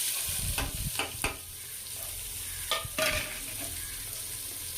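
Sliced big onions stirred in hot oil with fennel, cardamom, cinnamon and cloves for a simple biryani, a steady low sizzle broken by a few sharp spoon scrapes against the pan, close by.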